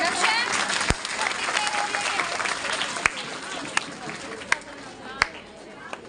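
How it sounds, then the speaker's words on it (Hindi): Audience applause at a school annual function and prize distribution, a dense steady clapping from a large crowd with a few sharp louder claps standing out, voices mixed in underneath. "एक बार फिर से जोरदार तालियां।"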